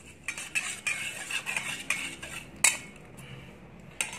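A metal spoon clinks and scrapes against a container while chili seeds are stirred in a soaking solution, making a series of close, light, irregular taps.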